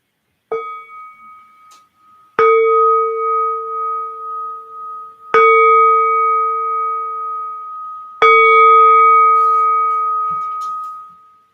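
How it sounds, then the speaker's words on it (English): A meditation bell is struck four times at slow, even intervals, each clear ring sustaining and fading before the next strike, loud and close with no talking. "I hope you could hear the bell."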